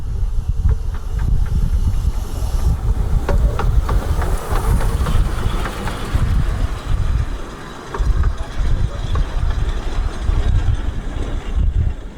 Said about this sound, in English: I flag down the next train and join it as far as the Green.